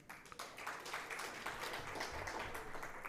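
A conference audience claps in a dense, steady round of applause, faint and distant-sounding, holding for a few seconds without a clear break.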